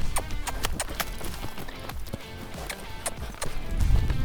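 A colt is sent moving by its trainer: quick, rhythmic hoofbeats land close by, loud and steady over a dull background rumble.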